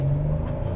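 A 2023 Kia Telluride SX with all-wheel drive gives a brief, close engine rumble with a low steady drone while accelerating.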